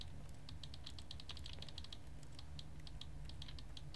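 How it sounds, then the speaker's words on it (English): Computer keyboard keys are mashed rapidly while playing The Stanley Parable, a fast, irregular run of close clicking keystrokes over a low steady hum, with no talking. "When you click your keys mashing."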